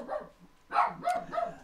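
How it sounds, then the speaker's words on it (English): A dog gives a few short, muffled barks and yips in a room, slightly distant and moderately loud, with no talking over them. "Sorry about the dog there."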